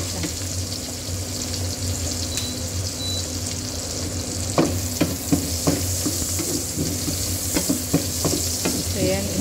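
Onion and garlic frying for pork belly adobo, a steady loud sizzle in the pan with stirring and scraping clatter building in the second half, no talking.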